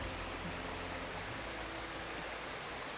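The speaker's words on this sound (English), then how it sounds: "I'm out at my favorite little creek, at my favorite little waterfall." A small waterfall on a creek rushes with steady, broadband water noise, constant and unbroken throughout, heard up close and alone with no voices.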